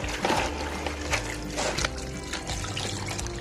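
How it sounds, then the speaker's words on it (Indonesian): Tap water running and splashing into a container being filled to soak ketapang leaves for betta fish care, a steady continuous pour close by with no talking. "Kita penuhin dulu airnya ya, untuk direndam si daun ketapangnya."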